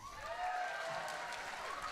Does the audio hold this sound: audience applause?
yes